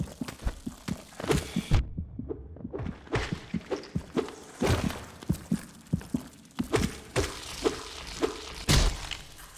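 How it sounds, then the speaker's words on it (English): Deep, gross-sounding heartbeat in the game Hollow Knight, loud repeated thumping pulses in a steady throbbing rhythm, layered with other game thuds. "That's the gross heartbeat thing."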